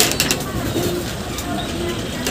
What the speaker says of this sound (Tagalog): may mga kalapating nagdadaanan